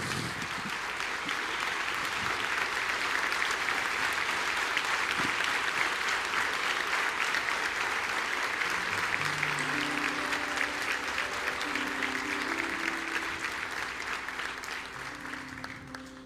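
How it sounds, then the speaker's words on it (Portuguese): Sustained applause from a church congregation, steady and dense across the whole stretch, with a faint instrumental tone rising under it toward the end before the clapping fades slightly. "dar uma forte salva de palmas ao Senhor"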